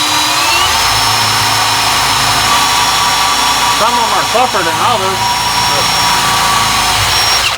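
A power drill fitted with a 1/8-inch stubby double-ended bit whines steadily and loudly as it drills out rivets on a Corvair oil baffle, its pitch shifting briefly under load while someone speaks over it.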